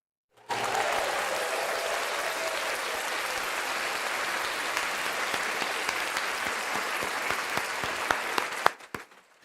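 Sustained loud applause from a Houston Texans audience for the offensive line, a dense wash of clapping that runs steadily for about eight seconds before tapering off abruptly.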